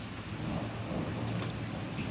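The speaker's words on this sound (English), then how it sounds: "there's another thunderstorm, another little thunder there in the background" Distant thunder rumbles low under steady rain during an April thunderstorm, a continuous muffled roll with no talking.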